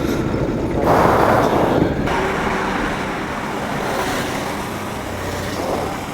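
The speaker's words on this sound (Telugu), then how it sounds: "Heavy traffic." Heavy daytime road traffic in Vijayawada, a dense roar of cars, trucks and buses passing close by with steady engine and tyre noise and a louder surge early on, no talking.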